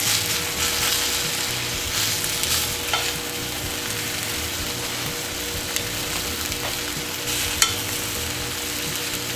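Meat sizzles steadily in a hot pan as its sugars caramelize, with a continuous close crackle and a few faint clicks over the top.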